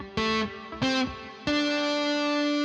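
Electric guitar with distortion and chorus effects plays the same four notes an octave higher, three sharp attacks in quick succession and the last note left ringing loudly, with no talking.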